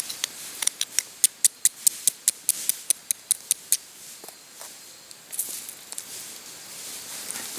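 Scissors cut natural cloth for char cloth in a fast run of crisp, evenly spaced snips close by, followed by a pause and a few quieter, more irregular cuts.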